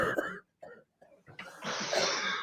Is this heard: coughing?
yes